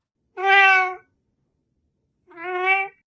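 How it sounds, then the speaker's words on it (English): Two clear, close cat meows, separated by a second of silence. "And now you have just a meow."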